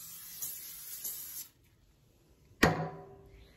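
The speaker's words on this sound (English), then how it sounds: "Just a quick light spray." A steady hissing spray of aerosol cleaner into a sink lasts about a second and a half, then stops; after a pause, a sharp clack rings out nearby.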